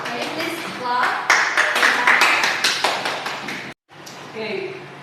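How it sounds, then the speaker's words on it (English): Several people clap their hands in a brief, scattered burst close by, followed by a short pause and a few more claps. "Can you please clap?"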